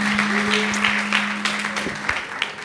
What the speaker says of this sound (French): Et ça, c'est à applaudir